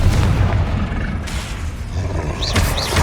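Confringo explosive spells cast in the video game Hogwarts Legacy go off as a steady, booming rumble, with a couple of brief whooshing flares near the end.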